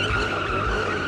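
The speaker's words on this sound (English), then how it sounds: "we're going to do donuts" Tyres on a V8 Beetle squeal steadily while it does donuts on a skid pan, a sustained loud skid with engine rumble underneath, no talking.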